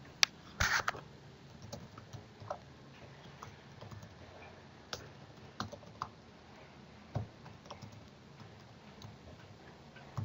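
Soft, irregular keystrokes tap on a computer keyboard while simple code is typed, sparse clicks in short bursts with pauses against a quiet room background.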